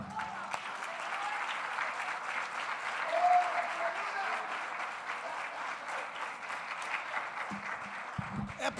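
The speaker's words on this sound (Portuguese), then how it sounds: "Jesus merece até uma salva de palmas." Sustained applause from a church congregation, a dense even patter of clapping that swells slightly midway and continues for several seconds.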